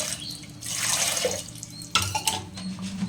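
Water runs and splashes into a pot for a few seconds, a steady pouring sound with a clatter partway through, no voices.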